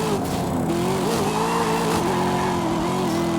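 A 2019 Corvette ZR1 engine in the racing game Forza Horizon 5, droning steadily at high revs with a rising and falling pitch through the clip, loud and continuous with no talking.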